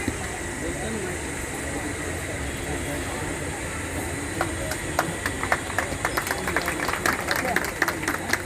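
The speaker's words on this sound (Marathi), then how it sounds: "टाळ्यांचा गजर होऊ द्या." Applause breaks out at an honouring ceremony, scattered claps building in the second half over a steady crowd murmur and background noise.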